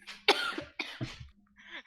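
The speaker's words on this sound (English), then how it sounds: "Stop coughing!" A person coughs in several harsh, close bursts, a couple of them deep and chesty, followed by a quieter throat sound at the end, with no speech.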